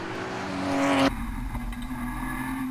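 Onboard Porsche race car lapping Rockingham in a championship race, engine droning loud and close with a sharp shift in tone about a second in, then steady high revs and wind roar.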